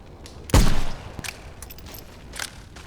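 A single heavy gun blast from the game Remnant from the Ashes booms loud and close, followed by a few fainter impacts and clicks trailing off in the quiet.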